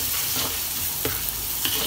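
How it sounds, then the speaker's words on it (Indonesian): Onions and bay leaves sauté in hot oil, a dense continuous sizzle with the scrape of stirring against the pan. "Kita tumis sampai harum semerbak"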